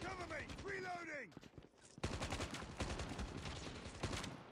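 Gunfire in Call of Duty Mobile: dense, rapid bursts of shots hammer away loudly and continuously for several seconds, after a brief lull that opens with a rising and falling tonal sweep.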